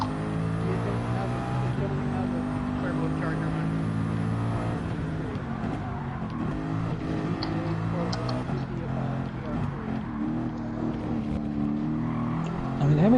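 Race car engines, including a Veyron and an Alpine, drone steadily in a driving video game, a loud constant whine with shifting pitch throughout and no pauses.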